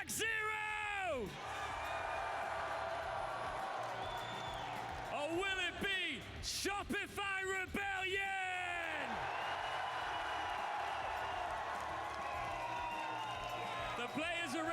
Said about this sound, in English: The crowd is hyped, as you can tell.